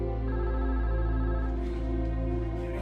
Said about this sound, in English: The interview was interrupted by a phone call from Elkins' wife.